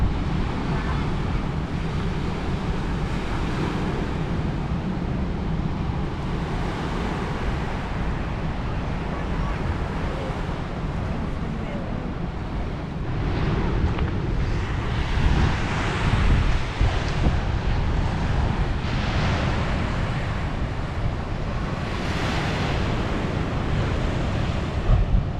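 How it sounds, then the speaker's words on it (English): Big ocean waves smash onto reefs along the South Australian coast, a continuous roaring surf with rising crashes midway, mixed with wind buffeting the microphone. "Big waves out there, smashing up on the reefs."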